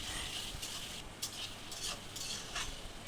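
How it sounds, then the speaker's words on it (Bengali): Mutton masala with Kashmiri chili powder stir-fries in a pan, a faint steady sizzle broken by a few brief scraping stirs of the spoon. "তো বেশ খানিক্ষণ মশলাটা খুব ভালোভাবে কষে নিতে হবে"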